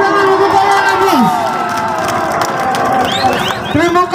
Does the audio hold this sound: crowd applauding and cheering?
yes